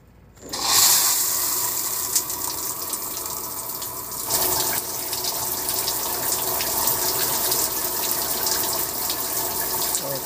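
Water running from a leaking shower hose in a bathroom, a steady hiss and spatter that starts abruptly and continues unbroken at close range, with a slight shift in tone partway through.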